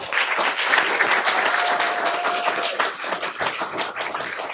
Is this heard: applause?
yes